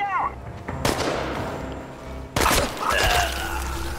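Gunfire in the post-apocalyptic survival game Chernobylite, with two loud broadband shots about 1.5 seconds apart, each followed by a ringing tail over a low background rumble, with no talk over it.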